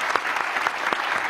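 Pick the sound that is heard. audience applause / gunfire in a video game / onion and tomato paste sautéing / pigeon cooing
audience applause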